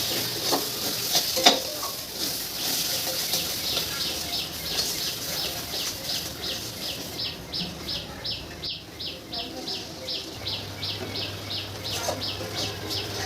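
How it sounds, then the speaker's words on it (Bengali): Spice masala with turmeric, Kashmiri chili powder and meat masala sizzles in oil for chicken kosha, a steady close hiss broken by rhythmic scraping strokes of a spatula against the pan. "এরপর ভালোভাবে কষিয়ে নিতে হবে যতক্ষণ না মশলা থেকে তেল ছেড়ে আসছে"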